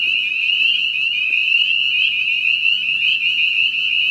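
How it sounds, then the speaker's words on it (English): A dense chorus of spring peeper frogs in Appalachia, thousands of high shrill peeps overlapping into a continuous piercing trill, loud and unbroken, with no voices. "There must be thousands of frogs."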